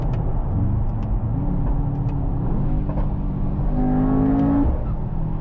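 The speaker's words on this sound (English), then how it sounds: "In this one is more noticeable, more, you can hear it more, the blow off." Mercedes-AMG GT 63 S E Performance hybrid engine running loud and steady, with a rising whistling turbo note that ends in a brief blow-off valve release near the close.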